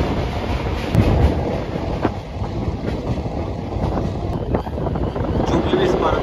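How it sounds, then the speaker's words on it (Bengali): Suburban train running on rails near Garifa station on the Naihati–Bandel line, steady rumbling and rattling with faint wheel clicks, continuous and fairly loud, with wind buffeting the microphone. "দেখতে দেখতে ট্রেন প্রবেশ করলো গরিফা স্টেশনে"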